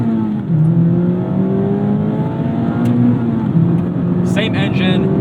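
A Mazda MX-5 Miata ND3 on an aftermarket exhaust revs and pulls hard through the gears, its engine note climbing steadily and dropping at shifts, loud and close from inside the car.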